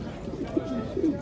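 Pigeons cooing softly at the Edirnekapı bird market in Istanbul, several low throaty coos rising above a dense background hum and distant voices.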